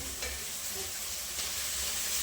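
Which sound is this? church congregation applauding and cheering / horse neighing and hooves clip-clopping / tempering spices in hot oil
tempering spices in hot oil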